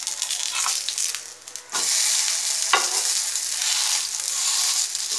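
Semiya adai, a vermicelli batter pancake, cooking on a hot pan gives a steady close sizzle that dips briefly and then resumes, with a few faint scraping touches of a spatula.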